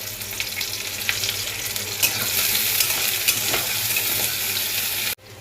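Onion fries in oil in a pan, a loud, steady sizzle with bursts of crackle and stirring, then it cuts off abruptly near the end.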